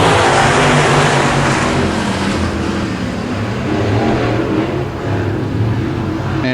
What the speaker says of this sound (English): So some pretty quick cars here in this heat race.